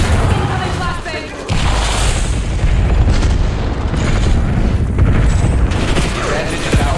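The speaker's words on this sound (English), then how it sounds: "Incoming flashbang." A flashbang grenade goes off in a tactical shooter video game: a loud, sustained roar of blast and rumble fills the scene, with a brief dip before the noise surges back and holds.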